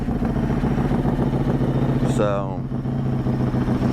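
A carbureted 1994 Harley-Davidson Softail Heritage Classic rumbles loudly at a steady idle close by, and someone talks over the engine for part of it.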